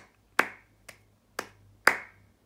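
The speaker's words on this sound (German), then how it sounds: "Ich klatsche." Four sharp, separate hand claps land about half a second apart in a quiet room, with the first and last louder than the middle two.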